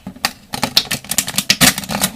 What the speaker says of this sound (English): I'm getting really bad shuffles here.